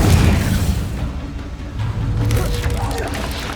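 A spell blast from the Confringo fire spell in Hogwarts Legacy goes off as a heavy, booming burst, its rumble lingering for a few seconds under faint game ambience.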